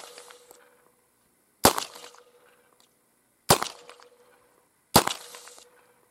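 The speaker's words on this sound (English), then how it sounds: "I fired a group of 5 cut shells" Three sharp, loud shotgun blasts firing cut shells, evenly spaced about two seconds apart, each with a short decaying echo and quiet between shots.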